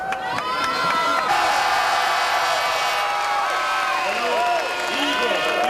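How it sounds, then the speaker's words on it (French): Spectators at a 1994 French 250cc motocross Grand Prix cheer and applaud winner Yves de Maria, a steady dense crowd roar with whistles and shouts throughout. "Comme les spectateurs, on applaudit bien sûr Yves de Maria"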